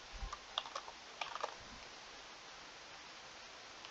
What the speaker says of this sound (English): I was kind of looking at my notes and typing at the same time